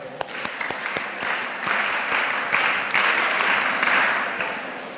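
A room full of people at a mentorship session claps for a woman who has just spoken, a lively sustained applause with crisp individual claps near the start, swelling slightly and holding to the end.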